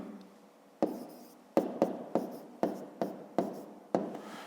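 A pen writes an answer to a fifth-grade maths exercise on paper in a quiet room. It makes a series of crisp scratchy strokes and taps, about eight quick marks in a few seconds, close to the microphone with no voices.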